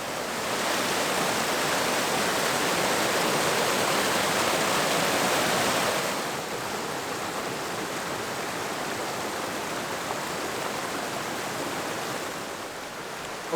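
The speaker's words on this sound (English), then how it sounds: "That noise that you're hearing is not the wind, it's the water right there." Steady, dense rushing of river water, loud and continuous with no breaks, easing slightly partway through but still a strong, close roar.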